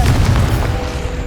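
Confringo fire-blast spell cast in Hogwarts Legacy: a single loud, deep boom with rumbling low-end that rolls on steadily for over a second, heard alone.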